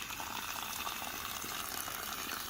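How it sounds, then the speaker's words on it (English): Tap water runs steadily into a container of chopped, lightly smashed comfrey leaves being filled for fermenting, a constant close rushing fill with no pauses or voices. "So I'm just going to fill it up with water and throw a cap on it."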